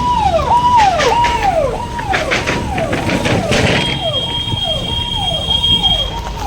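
An ambulance siren wails in repeating falling sweeps through heavy daytime traffic, loud and steady, with a high electronic tone joining partway and the driver briefly speaking nearby.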